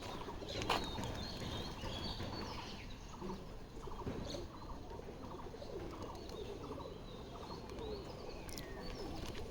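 Soft, steady outdoor ambience with faint bird calls and low cooing murmurs from pigeons, a few brief chirps rising over the background.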